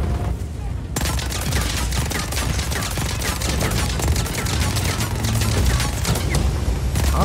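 Sustained, dense gunfire in Just Cause 4, with rapid overlapping shots and booms forming a loud, continuous barrage that runs from the first second to the end with no pauses.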